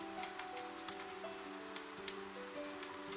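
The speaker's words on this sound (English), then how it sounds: "Outside, the rain continues." Rain falling outside during a quiet day at home, a faint, steady patter with scattered light ticks and drips, soft and continuous with no voices.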